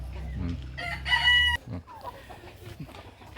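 A rooster in a flock of native and Brahma chickens gives one loud crow in the early morning, followed by soft clucking and low farmyard murmur.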